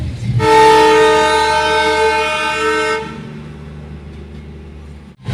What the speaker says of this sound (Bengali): এই যে সামনে বাতাসিয়া লুপে ঢুকছে একটা টয় ট্রেন